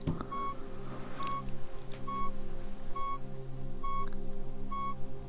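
Six evenly spaced short pure-tone beeps from an ASMR hearing test, repeating about once every second, clear over a soft background hum.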